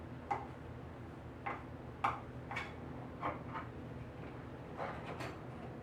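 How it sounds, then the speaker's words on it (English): Screws on the tank cover of a TASKI swingo 2500 floor scrubber are turned out, giving a series of soft, irregular ticking clicks over a faint steady hum. "Unscrew."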